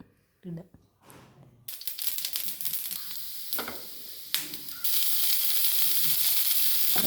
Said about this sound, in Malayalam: അതിൻ്റെ തണ്ട് അരിഞ്ഞതാണ് ആദ്യം ഇടേണ്ടത്.